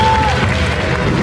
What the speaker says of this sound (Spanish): Un fuerte aplauso para despedir a Mister Estado de México Norte.